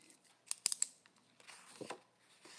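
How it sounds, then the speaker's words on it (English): Sheets of legal notepad paper are handled up close, giving soft crisp rustles and a few sharp crinkly snaps, quiet and intermittent with no talking. "Just listen to that paper."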